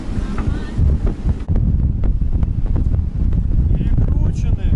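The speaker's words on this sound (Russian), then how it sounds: "Юго-западный ветер." A strong 35 to 40 knot southwest wind from Hurricane Nicole blasts across the microphone aboard a boat anchored in a Florida bay, a continuous loud roar with gusty buffeting and splashing water throughout.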